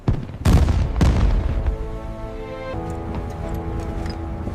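Battleship guns open a D-Day naval bombardment, with two heavy booming blasts close together, followed by a long rumbling, ringing decay.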